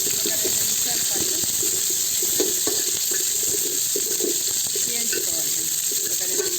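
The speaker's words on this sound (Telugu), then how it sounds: "ఇప్పుడు ఈ ఎర్రగడ్డలు, పచ్చిమిరకాయలు ఇవన్నీ దీంట్లో వేసుకోవాలి." Sliced onions and green chillies fry in a pan for a tomato and okra bajji, giving a constant, loud sizzle with light stirring sounds while a voice talks over it.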